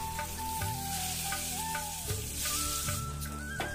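Marinated rui fish pieces fry in hot mustard oil in a pan, a close, steady sizzle with crackling pops and occasional scraping as the pieces are stirred.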